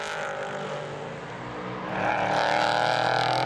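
A race car powers out of turn 5 during a qualifying session at Portimão, its engine a loud, sustained roar that swells in the second half as it accelerates away.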